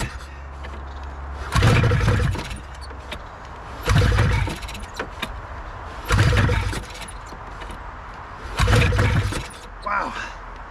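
An old snowmobile engine left in storage for ten years is cranked four times at even intervals, each attempt a loud rough burst of effort that fades back to quiet between tries.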